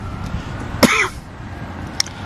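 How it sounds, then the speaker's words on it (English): A single harsh cough breaks out close by outdoors overlooking Halifax, followed by faint background noise and a small click. "sorry for my coughing"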